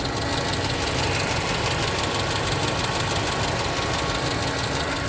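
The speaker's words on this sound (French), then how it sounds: "le radiateur qui se met en marche." Renault Twingo idling with its radiator fan running, a steady broadband whir and rumble over the engine's low, even idle, continuous and close throughout with no talk.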